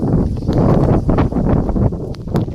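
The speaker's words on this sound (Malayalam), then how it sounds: "ഭയങ്കര കാറ്റുണ്ട്" Strong gusting wind buffets the microphone at a hilltop viewpoint about 3200 feet high in Idukki, a loud continuous rumble with surging bursts and no talk.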